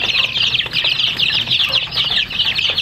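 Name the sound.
native and Rhode Island Red chicks clucking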